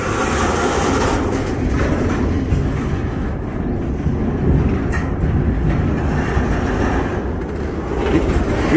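Freight train cars roll past steadily with a continuous heavy rumble and rhythmic clacking of wheels over rail joints, close and loud throughout.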